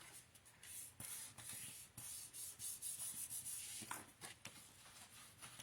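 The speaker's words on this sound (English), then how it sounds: "So we're going to just give that a nice burnish." Scrapbook paper for a Christmas-season mini album being burnished by hand, a close, steady run of quick rubbing and scuffing strokes with a few sharper swipes, no voices.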